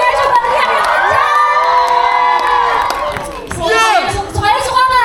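An audience at a film event for the drama Shaka on Shaka shouts, whoops and cheers loudly, a dense sustained roar of many voices, including children's, with a brief dip before surging again.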